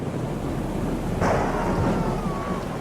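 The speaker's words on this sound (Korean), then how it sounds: "그렇지만 천둥까지 원한 건 아니었던 일행들." Thunder rumbles through steady rain in a The Walking Dead scene, a single low crack rising out of the constant hiss of the downpour.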